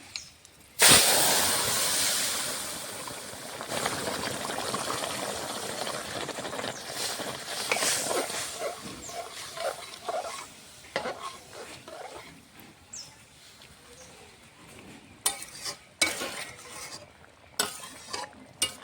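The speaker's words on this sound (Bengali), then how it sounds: "ফোড়নটা হয়ে গেছে, এখন আমি তরকারিটা ঢেলে দেবো।" Vegetable curry of greens with lentil dumplings tipped into hot oil tempered with whole cumin and nigella seeds, a loud burst of sizzling followed by steady frying hiss with repeated scraping stirs and clinks of a spoon against the pan.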